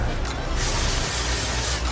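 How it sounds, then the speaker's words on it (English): A continuous hairspray spray hisses close up at the hair roots for about two seconds, with a brief change in pressure partway through. "and spray right at the roots"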